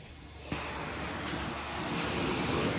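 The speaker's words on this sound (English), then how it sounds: "steaming these carpets out, restoring them back to their original glory" Steam carpet cleaning machine working on carpets in Belleville, Illinois, kicking on abruptly into a loud, continuous broadband hiss with a low motor drone underneath, close and steady with no talking.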